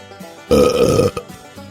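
A single loud, wet belch, close and lasting about half a second, with nothing else around it.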